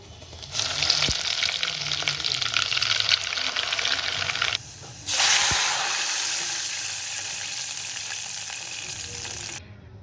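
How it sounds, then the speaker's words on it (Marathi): Cumin seeds and large pieces of crushed garlic hit hot oil in a pot, bursting into a loud, steady sizzle that cuts out briefly and then resumes, gradually settling. "तर आता एका भांड्यामध्ये तेल गरम करायचं त्यामध्ये जिरे आणि लसणाचे असे मोठे मोठे क्रश केलेले तुकडे टाकायचे आहेत"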